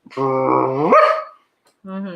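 A person imitates a dog barking in its sleep with a long, muffled, whining bark-like vocal, then a short pause and a second softer bark-like sound.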